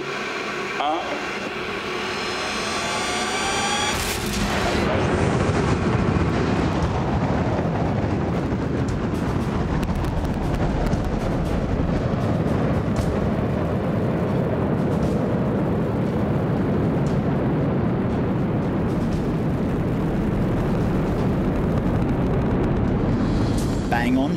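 A space rocket launching with 1,340 tons of thrust ignites after a countdown, its engines building to a loud, continuous, heavy roar that fills the rest of the stretch without a break.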